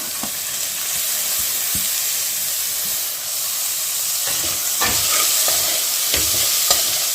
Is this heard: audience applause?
no